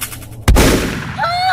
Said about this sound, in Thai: ครู่เดียวเธอก็ได้ยินเสียงปืนดังมาจากคอกวัว